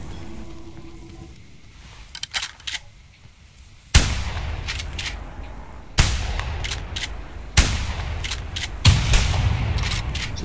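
Loud, sharp hunting rifle shots from theHunter Primal, four heavy cracks at roughly even intervals, each with a booming tail over a steady outdoor wilderness ambience.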